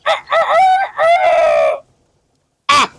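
A man imitates a chicken's crow in a Gilaki comedy sketch, a loud, close, drawn-out cock-a-doodle-doo in several bursts, then a pause and a short final squawk.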